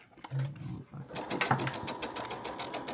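A sewing machine chain-pieces quilt blocks for a charity quilt, its needle running in short bursts, stopping briefly, then a longer rapid stitching run; close, fairly quiet, with no talking.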